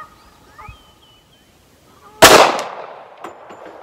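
A single sharp gunshot from a Tisas A1 1911 pistol in .45 ACP cracks loudly at an outdoor range, its report ringing and fading over the next second, with faint background noise before it.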